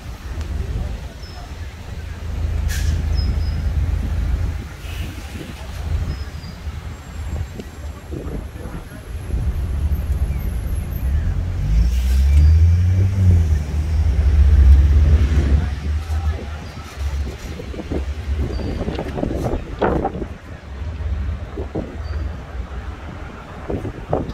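A red tour bus rolls through Toronto city streets, its low engine rumble and road noise steady throughout with wind buffeting the microphone, while a guide talks over it.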